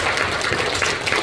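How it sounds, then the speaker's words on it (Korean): An audience at a community integrated care report meeting for disabled people applauds, a short, loud burst of dense clapping filling the room without any speech. "여러분 큰 박수로 맞이해주시기 바랍니다"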